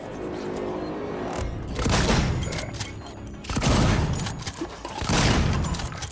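Bursts of video game gunfire in a survival horror shooter, three loud volleys of rapid shots with a steady roar of game noise between them, under some talk.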